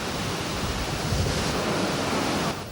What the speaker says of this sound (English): 是鼎湖山上最大最壮观的飞瀑。